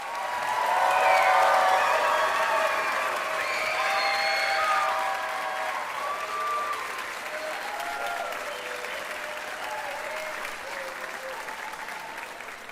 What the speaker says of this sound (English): let's give our class of 2024 another round of applause